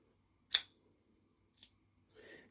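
A Pena X-Series dog leg knife blade swinging on its bearings, heard as two crisp metallic snaps a second apart and then a softer rolling whir, close and quiet, with no talking.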